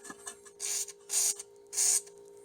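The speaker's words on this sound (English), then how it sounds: "taking some WD-40 and I'm going to spray it on each of the nuts" WD-40 sprayed onto rusted, grimy nuts on a 2003 Toyota RAV4 sway bar end link and bushing bracket: three hissing aerosol bursts, the last two longer and steady, each about half a second, close and clear with a faint hum underneath.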